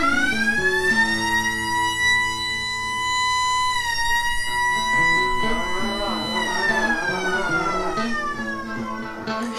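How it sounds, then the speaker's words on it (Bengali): A passenger ship, the MV Karnafuli, sounds its loud, sustained siren at departure, the steady tones swelling and sliding while faint background noise and murmur run underneath. "সাইরেন বাজিয়ে নির্দিষ্ট সময়ে এমভি কর্ণফুলী জাহাজ তা যাত্রার শুভ সূচনা করল।"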